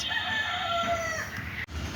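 Fancy foreign-breed chickens at a poultry farm, with a rooster crowing and hens calling close by over a steady background din.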